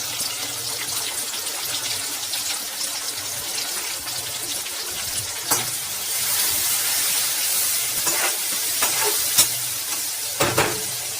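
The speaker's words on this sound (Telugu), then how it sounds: "సిమ్లో పెట్టేసి ఒక 5-10 మినిట్స్ వరకు దాన్ని ఆనియన్ గోల్డెన్ బ్రౌన్ కలర్ వచ్చేంత వరకు కూడా వేయిస్తాం" Onions and chillies fry in a pan with turmeric and salt, giving a steady, close hiss of sizzling oil broken by occasional clicks of stirring.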